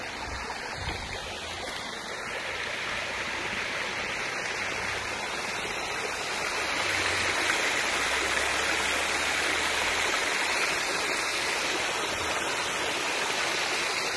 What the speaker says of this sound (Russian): Вот этот поток весь попадает в ручей, а дальше в Рождественское озеро и другие водоемы.